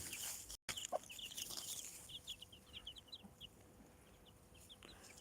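Hens with a brood of about ten small chicks outdoors: soft, high peeping calls in quick scattered bursts, faint and close, with a quiet low cluck and a brief handling bump at the start.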